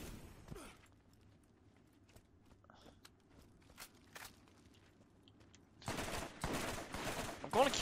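Gunfire in the shooter Borderlands: a few scattered single shots over a quiet, humming stretch, then a loud burst of rapid, dense firing near the end.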